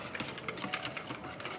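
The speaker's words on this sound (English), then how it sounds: "I'm going to whip the cream by hand every time" Cream whipped by hand with a whisk in a kitchen, quick rhythmic clicking strokes against the bowl, fast and even, faint and close.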